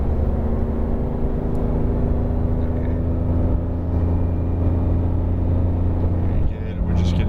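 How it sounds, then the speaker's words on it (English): Porsche 911 GT3 accelerating down a track's main straight, a steady low engine drone heard from inside the car under continuous talk. "you can squeeze on throttle a bit as you would like down the main straight"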